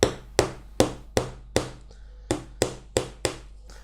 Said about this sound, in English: So we're going to quite simply tack a nail roughly over the centre of the rebate,